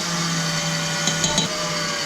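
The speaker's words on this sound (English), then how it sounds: "it's been like 10 minutes altogether whisking the aquafaba with the sugar" An electric whisk whisking aquafaba with caster sugar, a steady loud motor whir with a constant pitch, a few light knocks near the middle as the beaters touch the bowl.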